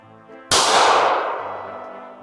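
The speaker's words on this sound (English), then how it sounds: "Let's see if that soldier's dead from the few Winger shots we" A single sharp bang from a toy Winger gun in a real-life TF2 scout challenge, loud and close, with a long ringing decay that tails off over two seconds.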